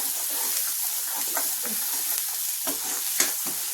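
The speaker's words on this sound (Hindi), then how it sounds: "यहाँ मेरा मसाला जैसे फ्राई हो गया है ऑलमोस्ट" Masala sizzles and crackles steadily in a pan in a home kitchen in Amritsar, close and loud, with occasional soft scrapes of stirring and no speech.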